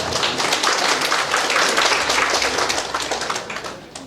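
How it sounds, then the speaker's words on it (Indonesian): Dense, steady clapping from a graduation audience at an Indonesian Islamic college's yudisium ceremony, a continuous wash of many hands at full strength that thins slightly toward the end, with no voices over it. "Boleh tepuk tangan."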